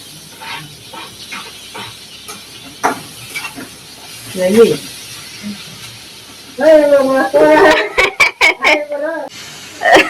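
Fish marinated in masala and coated in semolina (rava) fries in a pan, with soft sizzling and stirring scrapes close by while a person talks over it.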